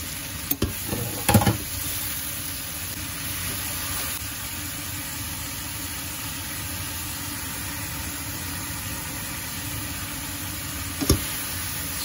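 Leeks sizzle steadily in a hot pan, a constant frying hiss with a few brief knocks of a stirring utensil near the start and one near the end, close and moderately loud.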